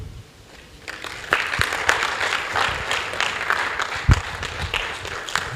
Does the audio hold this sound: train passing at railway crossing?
no